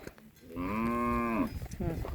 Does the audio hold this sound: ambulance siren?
no